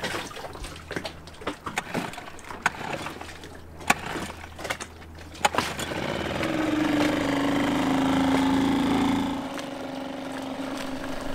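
A dinghy outboard motor at sea is preceded by clunks and knocks, then starts and runs with a steady droning hum for several seconds before easing down, fairly close with water noise around.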